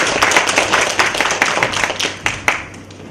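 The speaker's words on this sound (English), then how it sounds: "another big round of applause" Hall audience applauding a speaker at an academic teaching-and-learning event, loud, close clapping from a modest crowd with distinct sharp claps standing out, tapering off near the end.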